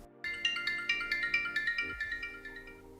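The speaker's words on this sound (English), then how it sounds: "I'm going to call the phone now, so listen out." A smartphone rings with a bright, chiming electronic ringtone summoned through an Amazon Echo's Find My Phone skill, sounding repeated rhythmic melodic pulses, fairly close and clear, with a brief low thump partway through.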